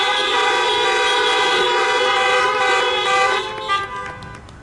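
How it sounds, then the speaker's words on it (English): Car horns honk together in a church parking lot during a Pentecost prayer service, a loud sustained blare of overlapping tones that holds for several seconds and then breaks into scattered toots before fading. "Let's give a big honk of support for our graduates."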